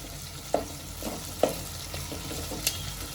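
Khichdi ingredients stirred together in a pan over a medium flame, giving a soft continuous sizzle broken by a few distinct scrapes and knocks of the spoon, close and fairly quiet.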